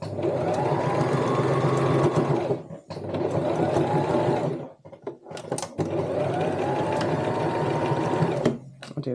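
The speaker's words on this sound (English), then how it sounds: "Put your foot back down and continue sewing." A sewing machine runs through three layers of fabric in long, loud, steady bursts. It stops briefly twice with small clicks between runs and is heard close.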